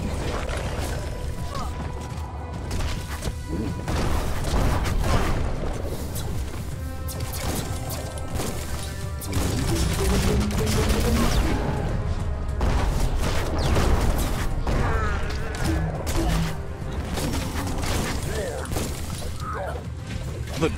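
Gunfire and impact crashes in the action game Biomutant, dense and continuous, with loud bursts, smashes and booms layered over a busy game soundscape throughout.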